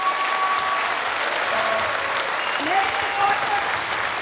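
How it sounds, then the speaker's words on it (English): Audience applause for the Canadian freedom truckers, a dense, sustained round of clapping from a crowd that holds steady for a few seconds. "join me in giving the Canadian freedom truckers once again a big round of applause"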